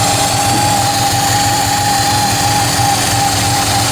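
A Subaru EA81 engine runs steadily after its carburetor is adjusted, a loud close idle drone with a constant pitch throughout and no talk.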